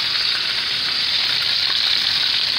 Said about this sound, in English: Extra virgin olive oil is what I sear the steak with